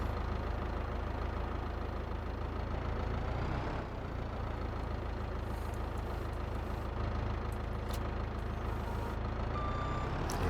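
Loading shovel at work in Farming Simulator 22, a steady loud engine drone with mechanical rumble and faint beeps toward the end, no talking.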